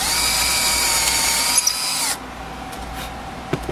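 A power drill bores a quarter-inch hole into a sculpted gull, whining steadily and loudly for about two seconds before stopping, followed by a few light handling clicks.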